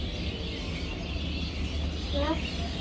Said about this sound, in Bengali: সকালবেলায় পাখির ডাক কিচিমিচি ভালো লাগতেছে অনেক